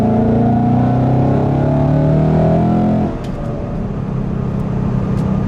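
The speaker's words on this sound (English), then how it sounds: "every single time you just get on the gas just a little bit, you hear that ProCharger just go." A supercharged 2015 Ford Mustang GT with a ProCharger pulls with a loud, steady engine drone and blower whine, then the note drops abruptly as the throttle eases, leaving a rougher, lower rumble.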